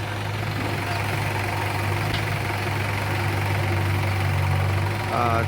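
A tractor engine idles close by while being loaded with soil by an excavator, a steady low, throbbing rumble that holds throughout, and a voice speaks briefly near the end.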